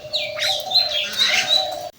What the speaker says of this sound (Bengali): ওই দিক থেকে একটা ঘুঘু পাখি ডাকছে